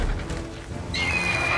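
Horse in The Witcher 3 giving a sharp whinny over low rumbling game ambience, the neigh rising high and bright in the second half of the short clip.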